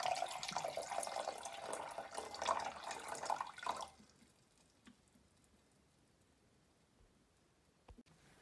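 Distilled water pours into a glass beaker for about four seconds, a close, bubbling splash that stops abruptly, followed by near silence with a couple of faint clinks.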